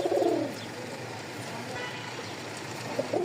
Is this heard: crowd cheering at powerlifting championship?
no